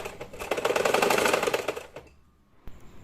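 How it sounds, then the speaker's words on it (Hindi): A sewing machine runs in a steady whirring burst as it stitches the corners of an old pillow cover, then stops, followed by a brief click near the end. "इसके बाद इसके चारों कोनों पे मैं सिलाई कर लूँगी।"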